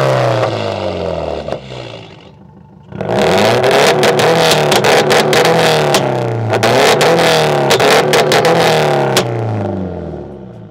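A Subaru WRX STI and a Mitsubishi Evo X revving loudly up close, a lower engine note first, then a sharp rise into repeated aggressive revs with crackling pops over about eight seconds.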